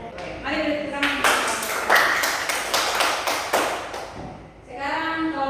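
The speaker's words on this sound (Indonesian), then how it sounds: "mari beri tepuk tangan" A classroom of students claps for a presenting group, a burst of sharp, rhythmic handclaps in the middle framed by a speaking voice before and after.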